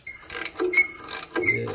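A ratchet works on seized bolts on a cheap Porsche, a quick series of close, metallic clicking turns with brief creaks, loud and alone.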